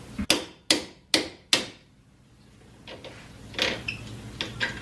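A camber bolt is driven out with a hammer during a lowering-spring job on a car, four sharp metallic strikes in a steady rhythm, followed by quieter taps and clatter.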